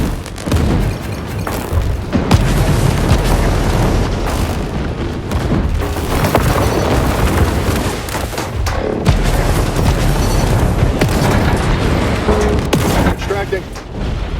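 Missiles exploding in the War Robots: Frontiers mech video game, a dense, continuous barrage of loud booms and blasts with gunfire bursts, under occasional talk.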